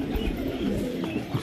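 Pigeons cooing, a soft low burbling that repeats continuously throughout the short stretch, close by with no talk.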